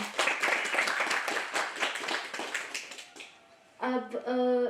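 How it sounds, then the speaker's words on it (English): A college literary society audience claps for a book's author at a launch event, a short burst of dense clapping that fades out, followed by a voice speaking. "can we have a round of applause for him?"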